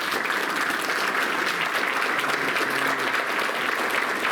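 A crowd at an awards luncheon claps steadily and loudly throughout, a dense, continuous wash of applause with no pauses.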